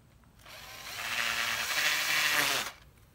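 A power drill drives into the other side of a rod rack fitted in a car, one steady whirring run of about two seconds that starts and cuts off abruptly, close and alone.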